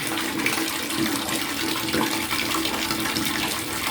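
Water runs steadily from a faucet, a constant close splashing rush with no voices.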